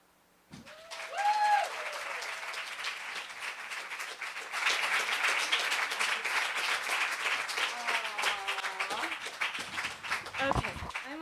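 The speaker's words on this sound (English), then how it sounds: "Clap your hands. Stomp your feet." Audience clapping along with stomping feet at a book party for a story about a beauty salon, a broad steady roar of applause after a brief voice, sustained and fairly loud with a few shouts near the end.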